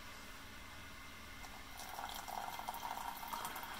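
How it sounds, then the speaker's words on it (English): Hot water poured into a beaker of roughly ground madder root. A steady, close liquid rush swells and grows louder partway through, with no talking. "then essentially just pour a little bit of"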